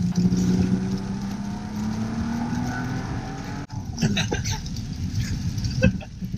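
A Bentley Bentayga SUV accelerating hard on a test drive, its engine note climbing steadily and smoothly for a few seconds, heard loud and close from inside the car, followed by rushing road and wind noise.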